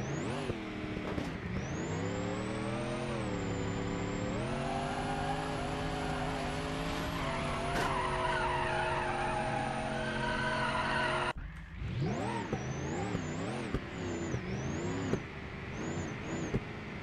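A loud diesel drag car engine roars and revs continuously, pitch climbing and holding, then cuts out briefly before revving again in rising and falling bursts.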